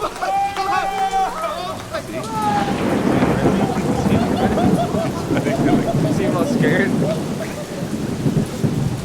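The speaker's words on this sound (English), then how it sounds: "The lightning zaps the ground." Thunder rumbles and rain pours from a storm playing on a video, loud and steady throughout, with a voice talking over it near the start.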